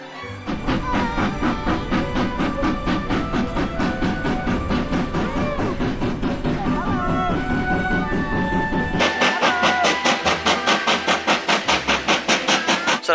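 A steam train crosses the Glenfinnan Viaduct in the Scottish Highlands, with loud, rhythmic chuffing exhaust beats and rolling clatter close by, steady and building in intensity throughout.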